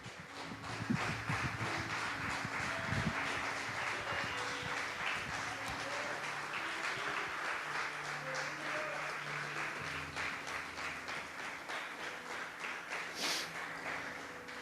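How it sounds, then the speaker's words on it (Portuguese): A standing church congregation applauds in worship, a long continuous wash of clapping hands with some faint background tones and voices underneath, steady and moderately distant. "E em pé vamos aplaudir a Jesus."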